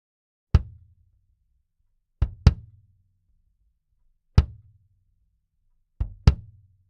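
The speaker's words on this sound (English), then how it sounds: "You can really hear the clicky beater sound on that kick drum sample" Kick drum miked close to the beater head, giving a sharp, clicky attack with a short low thump; six hits in irregular single and paired strikes, fairly loud and isolated.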